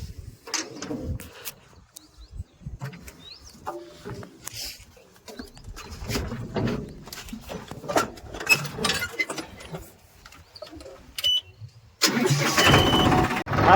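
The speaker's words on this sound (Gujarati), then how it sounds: "આવ્યું આપણું ટ્રેક્ટર" A tractor engine starts and idles unevenly, then revs loudly near the end, with birds calling faintly nearby.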